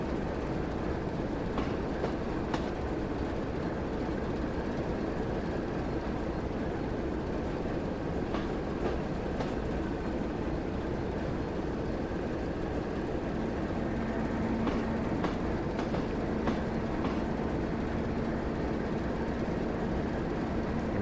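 A West Somerset Railway train in Train Sim World runs on under added throttle as a continuous, even rumble with faint rhythmic clicks of the track, steady and moderately loud throughout.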